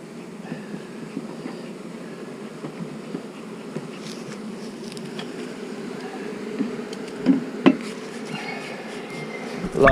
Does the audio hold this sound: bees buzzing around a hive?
yes